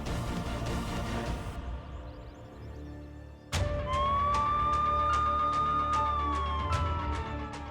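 A police car siren wails from about halfway through, loud and near, its rising and falling tone running over a dense background scene; before it starts there is only low ambient noise, and nobody speaks.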